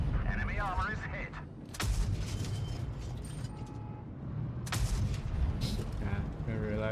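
Tank cannon shots and shell impacts in World of Tanks Blitz during a tournament match, with two sharp broadband blasts about three seconds apart over a constant engine rumble and game effects.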